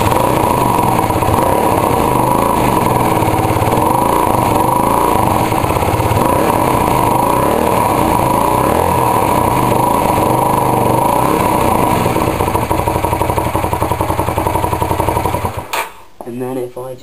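A motorcycle engine with the exhaust baffle fitted idles loudly and steadily, a muffled, even rumble that runs for most of the clip before cutting out abruptly near the end.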